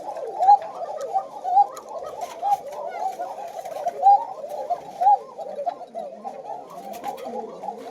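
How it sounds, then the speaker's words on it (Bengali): Several white Koka pigeons give thin, repeated cooing calls, one after another in a steady pulsing rhythm. The coos are close and clear over a low, soft background. "এটা অনেক চিকন ডাকের কবুতর"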